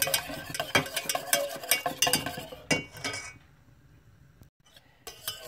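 A utensil stirs and clinks against a pot of hot passion fruit coulis mixed with gelatin, with rapid repeated scraping taps that pause into near quiet, then resume.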